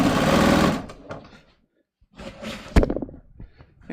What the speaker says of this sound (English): basically I'm just sewing these together